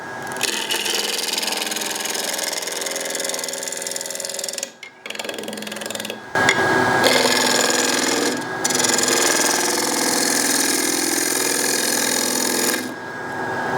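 A wooden bowl spinning on a lathe while a 16mm Woodcut bowl gouge with its heel removed cuts into it, a loud continuous close rasping and scraping that stops briefly twice, with no speech.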